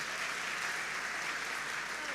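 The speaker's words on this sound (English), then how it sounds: "Let's give them the last hand clap." An audience applauds at the end of a presentation at a national communications conference, with steady, dense hand clapping from many people throughout, moderately loud and without pauses.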